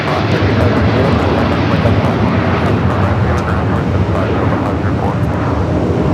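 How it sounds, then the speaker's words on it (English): A United Airlines Boeing 787-10 Dreamliner takes off at LAX with a loud, dense, broadband engine roar that stays steady throughout, up close and overpowering. "This is United Airlines Flight 39 taking off to Tokyo Haneda on the 787-10 Dreamliner"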